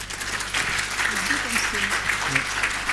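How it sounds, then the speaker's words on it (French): Clapping from an audience at a French digital-awards prize ceremony, a dense, sustained patter of hands, with a voice speaking briefly over it. "Merci, on vous applaudit à nouveau."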